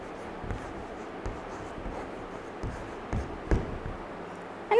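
Pen or pencil writing on paper in a school classroom, soft scratchy strokes with occasional taps, close and fairly quiet, no talk heard.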